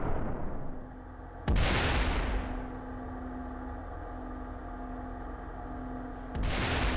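US Navy 8-megajoule railgun prototype firing 7.1-pound projectiles at a test range: two sharp, powerful cracks a few seconds apart, each with a brief booming tail over a steady low background hum.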